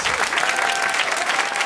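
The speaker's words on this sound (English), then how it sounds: "Big round of applause." Audience at a Christmas concert applauding, a brief dense burst of sustained clapping filling the hall.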